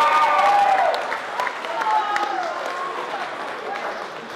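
A boxing event crowd claps and cheers for a fighter, the applause loud at first and tapering over a few seconds, with whistles and a voice rising above the noise.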